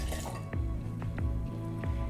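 Dolin Rouge vermouth is poured for a Martinez cocktail, a quiet, close trickle of liquid with a few soft, separate drips and splashes spaced through the pour.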